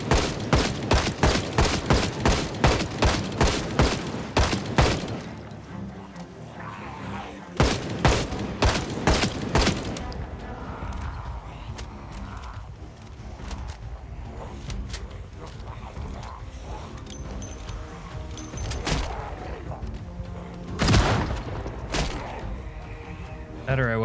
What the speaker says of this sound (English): Apparently I'm terrible at shooting the 45.